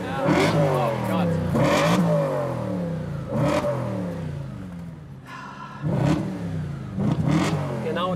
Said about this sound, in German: Setz du dich mal bitte rein und gib mal ein bisschen Gas.